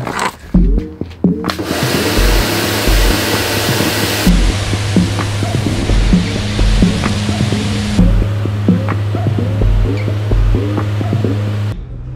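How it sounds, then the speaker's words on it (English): A pressure washer spraying, producing a loud, broad rushing hiss of water with an engine throbbing underneath, the spray cutting in and out several times at close range. "And the pressure washer, which is actually a really fun job."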